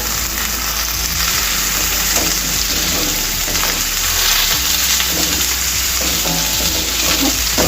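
Bitter gourd pieces sizzling steadily in hot oil in a pan for boda kakarakaya fry, a loud continuous crackling hiss with occasional stirring scrapes.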